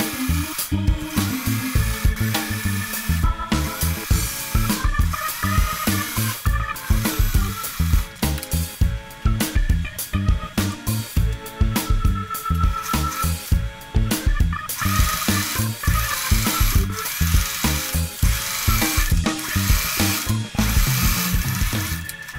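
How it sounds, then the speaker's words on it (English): A sewing machine stitches a caftan tunic with a steady, rapid mechanical clatter that runs loud and close without a break. "Let's start sewing."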